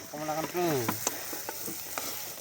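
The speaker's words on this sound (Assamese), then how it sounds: "এইটো এতিয়া আৰু কেৰাহীত হাঁহৰ মাংস স্পেচিয়েল কৰি আৰু এক্সট্ৰাকৈ বনোৱা হৈছে" Duck meat cooks in a wok (kerahi) with gravy, giving a quiet sizzle and scattered crackles. A short, rising tonal squeal comes near the start.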